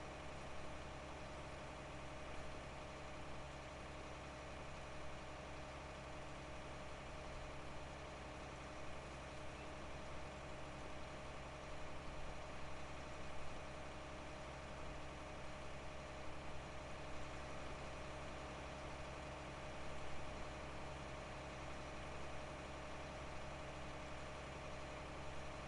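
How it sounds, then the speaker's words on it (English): An old tractor engine idles in Farming Simulator 19, a steady, beefy low rumble that runs unbroken and close at an even level throughout, with no speech over it. "That sound quite nice, the old engine. Sound quite beefy."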